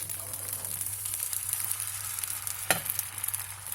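Vegan coconut crepe batter sizzles in a preheated frying pan over medium heat: a steady, close hiss throughout, broken by one sharp clink of a utensil near the end, with no talk.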